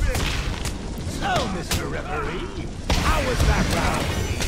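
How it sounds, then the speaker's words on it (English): Repeated booming blasts and crashing debris from Batman: Arkham Asylum game action, with whooshing effects and a loud burst near the end, while a voice talks over them. "Oh god, explosions."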